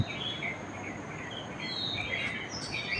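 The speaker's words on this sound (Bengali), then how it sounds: "এই পাখিদের আওয়াজ" Birds sing faintly at dawn around five o'clock under a cloudy sky near mango trees, with scattered high chirps and whistles over a steady hiss of insects and no talking.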